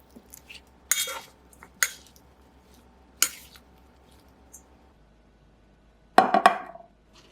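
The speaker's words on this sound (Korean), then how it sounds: "레몬 1개 즙으로 짜서 넣고 올리브오일 4큰술과 올리고당이나 알룰로스 2큰술 넣어 잘 섞어주세요" A lemon juice, olive oil and syrup dressing being mixed, heard as a few separate spoon clinks against a bowl followed by a short burst of quick clattering stirs, close and otherwise quiet, with no talking.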